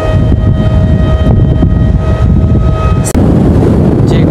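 Strong wind blowing over a sandy seashore at night: a loud, constant roar buffeting the microphone, with faint whistling tones running through it.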